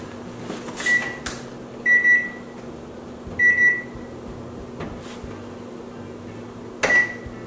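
Kitchen oven timer being set while banana cranberry walnut muffins bake: four separate short electronic beeps, clear and fairly close, over a steady appliance hum with faint clatter.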